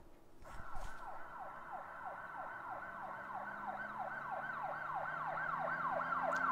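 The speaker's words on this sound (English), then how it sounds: "listen for how the pitch changes with this siren" A wailing siren with rapid, repeating up-and-down sweeps, starting faint and growing steadily louder as it approaches.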